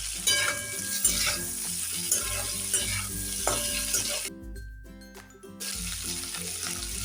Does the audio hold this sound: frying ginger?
yes